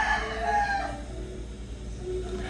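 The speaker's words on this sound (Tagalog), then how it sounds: "ba't yung manok tilaok ng tilaok, tanghali na?" A rooster crows at midday, a drawn-out call that rises and falls, moderately close and heard on its own over faint background noise.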